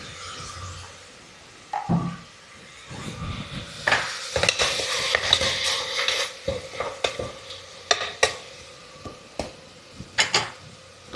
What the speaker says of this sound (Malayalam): ഇതെല്ലാം കൂടി നല്ല തക്കാളിയൊക്കെ നല്ലൊന്ന് വഴറ്റി കിട്ടണം